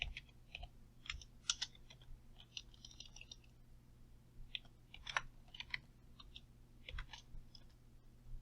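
Keys tapped on a computer keyboard in short, irregular bursts of close clicking, with pauses between clusters over a low steady hum, no talking.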